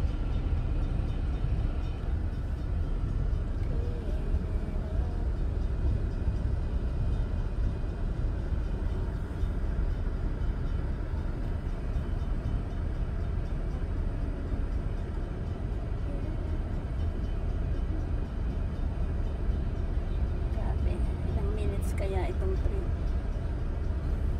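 A long cargo train rumbles past continuously, a heavy low roar with rattling wagons that stays steady and close throughout, with a faint high squeal late on.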